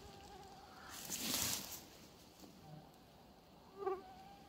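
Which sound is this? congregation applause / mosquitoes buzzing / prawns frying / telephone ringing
mosquitoes buzzing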